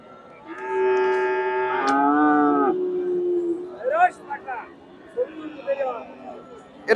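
A Friesian bull calf at a cattle market lets out one long, loud moo close by, followed by market chatter and voices.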